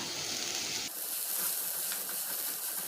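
Chopped onion dropped into hot coconut oil sets off a steady, close hiss and crackle of frying that begins abruptly and carries on evenly without a break.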